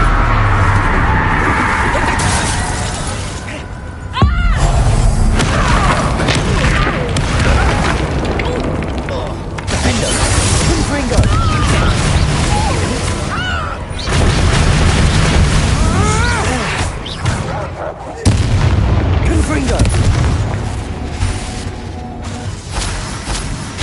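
Repeated heavy blasting-spell explosions in the game Hogwarts Legacy, loud deep booms bursting every few seconds over a dense rumbling battle din, close and dominant throughout.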